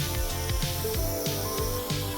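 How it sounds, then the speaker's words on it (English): A hose end sprayer on a water-only setting sprays over lawn grass, a steady loud hiss of water with faint rhythmic pulsing underneath, and no talking. "now I'm just gonna go back over the whole thing and spray it with water real quick"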